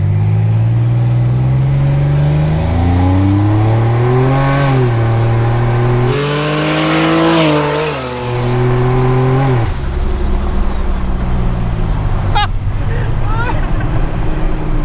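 A 1987 Buick Grand National brake-boosted and launched hard, its engine note climbing in steady revving sweeps over several seconds before dropping into loud road and wind roar, with a brief high squeal near the end.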